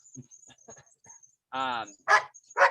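A dog gives a few short, fairly close barks or yips toward the end, after quiet speech-like murmurs; earlier a drawn-out tonal whine-like sound rises briefly.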